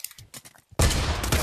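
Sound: gunfire in the video game Pavlov

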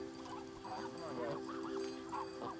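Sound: geese honking in a pen

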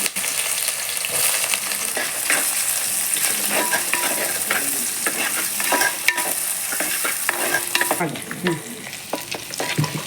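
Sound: sliced onions frying with bay leaf and cumin for prawn biryani

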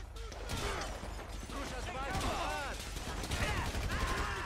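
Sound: automatic weapon gunfire in Grand Theft Auto 5 video game

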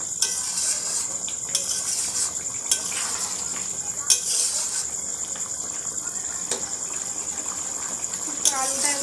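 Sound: stirring chicken and potato curry in a pan

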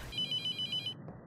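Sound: cell phone ringing in the video game The Mortuary Assistant

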